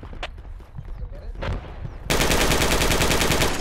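Automatic AR rifle fire in the military shooter game Project Reality, a loud sustained burst that erupts after two seconds of distant battlefield noise and radio-style chatter, continuing unbroken to the end.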